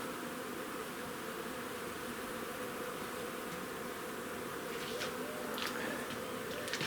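Honey bees swarming around feeding jars set in a hive, a dense continuous buzzing hum close by, steady throughout with a few louder passes near the end.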